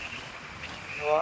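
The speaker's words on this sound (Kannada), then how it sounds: "ವಿಂಡ್ ಬ್ಲಾಸ್ಟ್ ತುಂಬ ಜೋರಾಗಿ ಗಾಳಿ" Steady wind roars against the microphone on a road in Ladakh, a broad constant rush with a brief rise in strength at the end.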